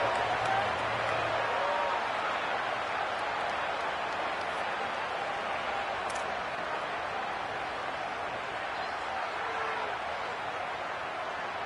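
A home stadium crowd at a Georgia at South Carolina football game reacts to a play call late in the game. Its broad, steady roar and murmur of disapproval holds at a constant level, with faint whistles on top.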